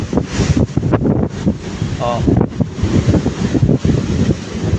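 Strong wind roars across the mic with waves washing underneath, steady and loud throughout; a man briefly exclaims partway through.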